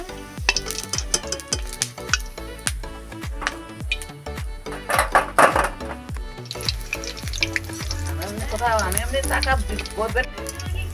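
Khoi vadas fry in hot oil with a constant sizzle and repeated scraping knocks, while a person talks over the cooking.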